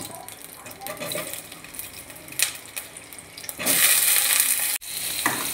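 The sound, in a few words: potatoes frying in oil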